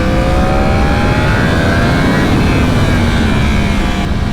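A 2019 Yamaha R1M motorcycle engine roars and revs loudly while riding on a street, with a steady, high-pitched, rising whine over heavy wind rush, close and continuous, without talk.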